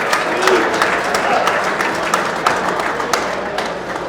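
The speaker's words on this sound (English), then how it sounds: "Another round of applause for Luke." An audience at the Hermes Expo Greek awards ceremony breaks into sustained applause, a dense, loud wash of many hands clapping that runs steadily throughout, with faint voices underneath.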